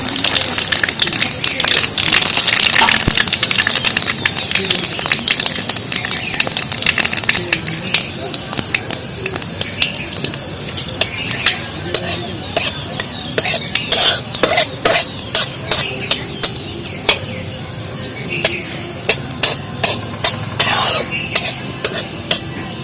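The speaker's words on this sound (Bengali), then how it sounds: "ফোড়ন দিয়ে দিচ্ছি গরম তেলে।" Panch phoron five-spice mix hits hot oil for mango pickle with a loud, dense sizzle that fades over the first half, followed by quick metallic scrapes and taps of a spatula, with someone talking over parts of it.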